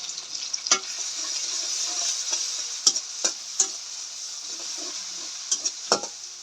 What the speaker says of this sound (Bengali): আদা রসুনটা একটু ভালো করে ভাজা নিতে হবে,